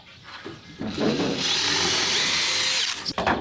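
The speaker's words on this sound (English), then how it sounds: "I'm going to screw down the rest of this decking" A power drill drives screws into wooden decking boards outdoors, with one long loud whirring run that builds up and then cuts off, close to the listener.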